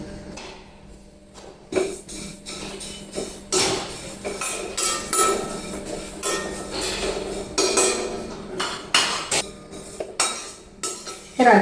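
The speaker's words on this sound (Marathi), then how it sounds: "बडीशेप भाजून घ्यायचे" Fennel seeds dry-roast in a pan without oil while being stirred, producing irregular scraping and clinking of a spoon against metal in bursts, close and fairly loud, with quiet gaps between strokes.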